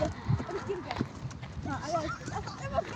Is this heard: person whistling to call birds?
no